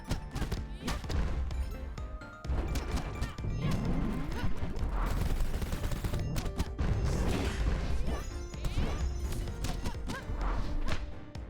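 A dense, loud run of rapid explosions and crashing impacts from the arcade action game Super Crush KO, packed with clattering hits and booms.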